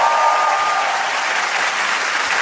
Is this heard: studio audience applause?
yes